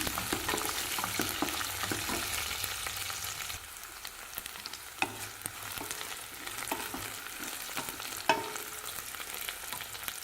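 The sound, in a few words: garlic and dried red chillies sautéing in a pan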